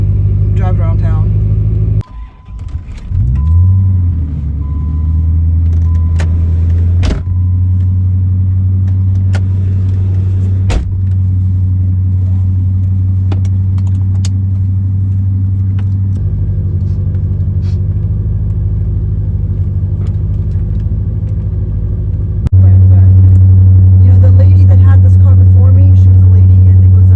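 A 1980 Corvette C3 being driven around town, its engine a loud steady rumble from inside the car with a sharp shift near the start and a louder stretch toward the end, and a voice talks over it.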